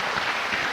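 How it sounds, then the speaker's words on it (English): A short burst of audience applause at a presentation comes through as a dense, even patter of many hands clapping at once. It sounds moderately close and lasts under a second. "I wasn't actually looking for applause"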